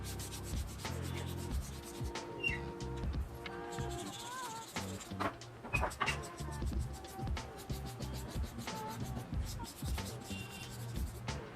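A pencil shades a comic-style caricature on paper, making soft scratchy rubbing strokes in quick irregular bursts, close and fairly quiet, with brief pauses between strokes.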